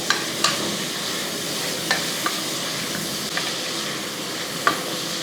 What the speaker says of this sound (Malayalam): ഇതേപോലെ രണ്ട് തക്കാളി എടുത്തിട്ട് ഇങ്ങനെ ഇളക്കി കൊടുക്കുക